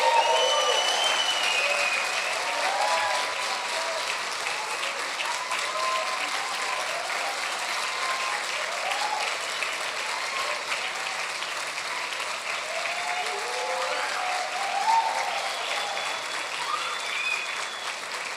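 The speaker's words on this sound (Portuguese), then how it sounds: "Dá um forte aplauso ao Senhor." A church congregation at a Brazilian evangelical service claps loudly and steadily for the full stretch, a dense sustained wash of applause with faint crowd voices mixed in.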